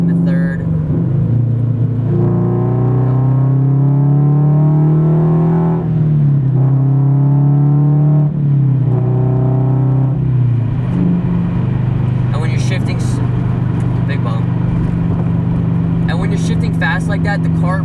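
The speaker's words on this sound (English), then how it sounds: "I'm in 4th gear right now, downshifting to 3rd." A Subaru BRZ engine with lightweight pulleys drones steadily, then drops and surges as it downshifts from fourth to third gear, loud and close, with road noise continuing afterward.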